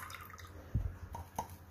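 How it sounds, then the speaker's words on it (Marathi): Water strained from pulp for panipuri puris drains into a metal cooking pot, heard as a few faint, scattered drips and small splashes against a quiet background. "हे पाणी मी या गंजात काढून घेत आहे।"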